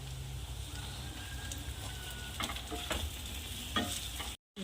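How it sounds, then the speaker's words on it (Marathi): Sabudana usal goes into a hot pan and is stirred, giving a soft steady sizzle with scraping spoon strokes, close and quiet, ending abruptly. "आता उसळ ॲड करू"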